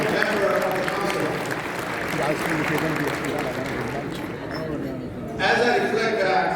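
Audience at a community gala applauding new council members, sustained clapping from a large crowd with murmured voices beneath, dipping briefly near the end before swelling again.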